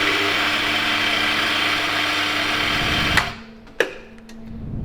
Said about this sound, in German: Das ist einfach die geilste Kaffeemaschine der Welt.